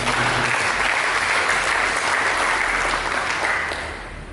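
A church congregation bursts into dense, sustained applause, many hands clapping together in a steady roar that holds evenly before tapering off slightly at the end, no talking over it.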